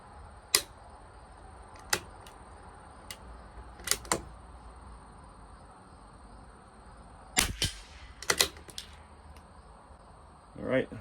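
Shots from a CZ 457 LRP rimfire rifle with Lapua Super Long Range ammunition on a 50-yard range: several sharp, dry cracks spaced seconds apart, some in quick pairs, over a steady faint background hum.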